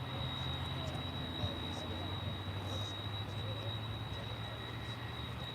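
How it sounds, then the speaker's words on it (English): A UPS MD-11 cargo jet arrives at Dallas/Fort Worth airport, its engines a steady distant roar with a thin high whine, faint and continuous without any change in level. "this is UPS Flight 5510 coming in from Louisville, Kentucky. It's an MD-11"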